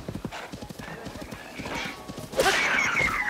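A horse in Zelda: Tears of the Kingdom clip-clops in a quick, steady hoof rhythm, then lets out a bright, loud whinny near the end, with faint game ambience underneath.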